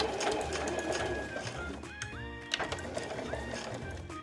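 A domestic sewing machine stitches fabric for a smartphone pochette with a zip pocket, whirring in steady bursts with brief pauses and rising motor tones between runs, close and clear.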